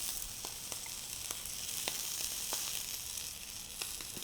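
Scallops sear in hot oil in a pan with a steady, bright crackling sizzle and scattered small pops, close and continuous with no talking.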